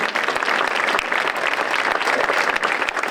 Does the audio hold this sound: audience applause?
yes